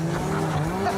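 A muscle car's engine holds a loud, buzzing high-rev drone pinned at the rev limiter, a brief, close and continuous roar with no pauses.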